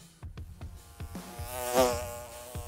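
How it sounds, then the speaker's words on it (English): Insects buzz near and far over soft background clatter, one drone swelling loud as it passes close before fading. "the bees are back"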